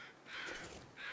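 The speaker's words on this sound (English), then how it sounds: "I can hear crows." Crows caw in the survival video game The Long Dark, two drawn-out harsh calls at a moderate distance, separated by a short pause, with no talking over them.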